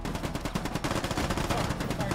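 Sustained gunfire in the military shooter game Squad, a dense rattle of overlapping shots at a steady rate, moderately loud, with a busy battlefield din underneath.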